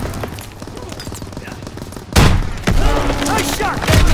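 Gunfire in the World War II shooter Call of Duty WWII, with muffled rapid shots and thuds that give way to loud, close bursts of fire and booms, while a voice shouts over the battle.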